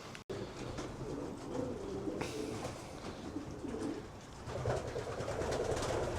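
Racing pigeons coo at an allotment loft, their soft, rolling calls repeating in overlapping phrases against a steady outdoor background.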